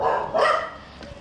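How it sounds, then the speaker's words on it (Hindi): Small dogs bark at a clinic entrance, giving a couple of sharp, high yips close by in quick succession. "छोटे छोटे कुत्ते भौंक रहे हैं"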